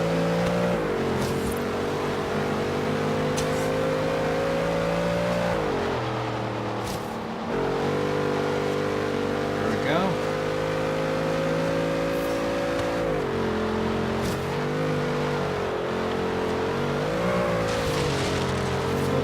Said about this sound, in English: Stop burning out, you're losing speed here.